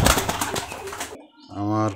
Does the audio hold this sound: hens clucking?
no